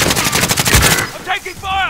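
Rapid automatic gunfire in Call of Duty: Modern Warfare crackles loud and close for about a second, then gives way to quieter game effects and chirpy tones.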